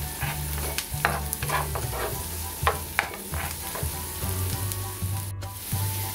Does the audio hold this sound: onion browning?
yes